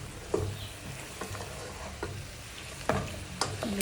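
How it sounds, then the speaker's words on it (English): Pepper goat meat is stirred in a pot: a few distinct scraping clacks from the spoon against the pot stand out over a low, steady cooking hiss, with no one talking. "Give it a good mix, just to make sure the ingredients mix up well in the meat."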